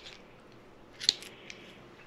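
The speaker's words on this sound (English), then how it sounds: "So we'll trim that to size." Scissors trim 3M mounting tape to size, a single quick close snip with a faint crisp click in an otherwise quiet moment.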